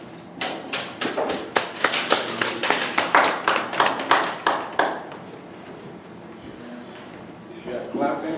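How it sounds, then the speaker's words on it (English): A church congregation claps together in a steady rhythmic burst of about a dozen sharp, loud claps, then fades out, with a voice speaking briefly toward the end. "If you are clapping for me"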